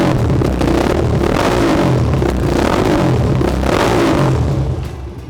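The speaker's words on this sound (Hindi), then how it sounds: "ओके, बाइक का साउंड काफ़ी अच्छा है," A modified Royal Enfield Bullet with a barrel exhaust revs hard. The exhaust gives a loud, close, rumbling roar that holds steady for several seconds, then eases off near the end, with no talking over it.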